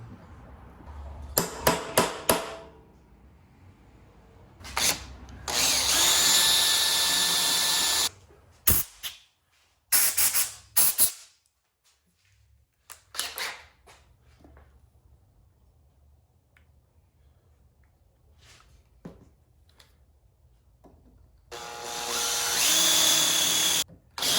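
Bursts of a power drill with cheap drill bits whirring through material on a Tormach 440 Z axis cover, several separate runs of a few seconds each, with clicks and quiet pauses between them.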